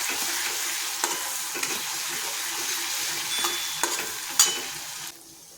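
Green chili paste with asafoetida and cumin frying in a pan, a steady close hiss with occasional stirring knocks and a brief louder spatter near the end before it quiets.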